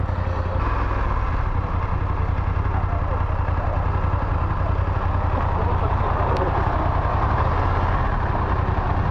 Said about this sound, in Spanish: cuánta moto hay aquí